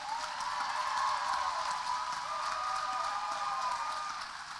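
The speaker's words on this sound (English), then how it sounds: "I want you guys to give yourself a hand of applause one more time" Audience applause at a gathering: a sustained, even wash of many hands clapping fills the space, steady and fairly distant, then tapers slightly at the end, with no clear talking over it.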